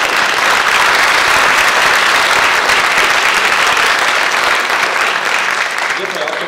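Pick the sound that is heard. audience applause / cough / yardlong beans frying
audience applause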